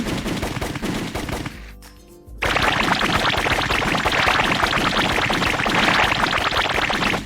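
Dense, continuous bursts of rapid gunfire in the video game Blockman GO fill the clip, pausing briefly near the two-second mark before resuming loud and unbroken until the end.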